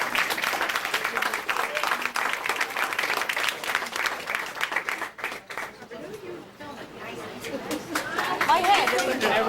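A roomful of guests at a retirement dinner breaks into sustained applause, dense clapping that dips midway and then swells again, with chatter and voices mixed through it.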